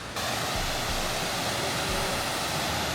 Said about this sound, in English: No, this is a 10 out of 10 waterfall.